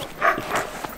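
Sled dogs at a dog-sledding outing give a short burst of barking, one bright bark near the start followed by a couple of softer yips, close and fairly loud.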